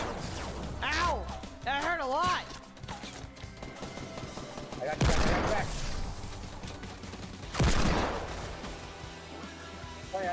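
Gunfire in the video game Fortnite crackles in several loud bursts among other game effects, while players talk and shout over it.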